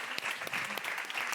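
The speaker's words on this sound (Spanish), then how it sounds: "Un aplauso así muy grande para él, por favor." Audience applause for guest José Corbacho, a brief burst of clapping from a crowd, fairly quiet and even throughout.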